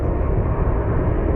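A Boeing 737 airliner at Phoenix Sky Harbor airport gives a loud, steady broadband engine roar, continuous and alone.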